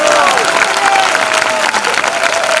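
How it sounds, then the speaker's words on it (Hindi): An audience at a SAFESHOP business seminar in India claps loudly and continuously, a dense wash of applause from a large crowd. "अरे ताली का जोरदार बजा ले यार।"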